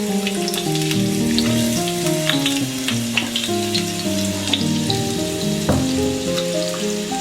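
Onions with green chillies, curry leaves, dried red chillies, cumin and whole coriander sizzle in hot cooking oil left over from frying pakoras for a curry tadka, a loud, steady crackling fry with small pops and stirring, no voices.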